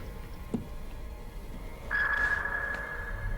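Submarine sonar in the WW2 film Das Boot, a faint sharp ping followed by a sustained tonal pulse ringing out over a quiet, low background hum.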